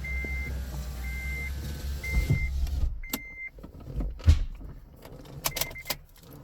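Power windows on a car roll up in a parked vehicle, a short whirring motor run amid keys jangling, clicks and light rustling, followed by a few chime-like beeps, all fairly quiet and close.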